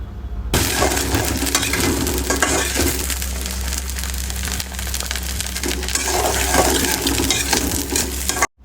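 Garlic sizzles steadily in hot oil with dried red chilies and panch phoron, a Bengali five-spice mix, while being stirred for a pickle. The frying hiss is close and continuous, with occasional scraping and clinking throughout.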